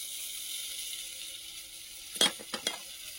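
Cumin seeds dropped into hot oil to temper mango dal for a Bengali New Year meal, giving a steady low sizzle and then two or three brief, louder bursts of spattering near the end.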